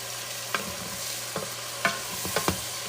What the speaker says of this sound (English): the mushrooms sizzling here